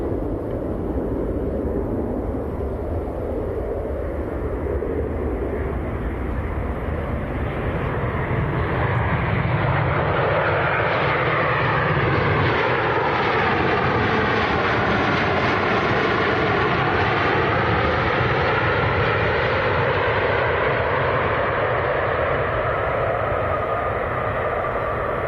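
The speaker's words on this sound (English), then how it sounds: "Next to land, this is Ryanair from Londonderry." A Ryanair airliner lands at Manchester Airport, its jet engines roaring loud and steady throughout, with a rising and falling whine as the aircraft passes close by.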